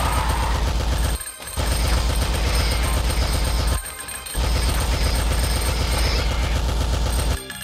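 A machine gun fires long rapid bursts in the game Alien Shooter, a loud dense rattle broken by two brief pauses and cut off near the end.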